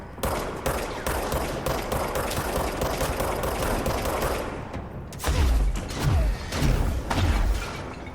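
Rapid gunfire in the action game Control, loud and continuous at first, then a pause followed by heavier thudding shots and booms; no talking.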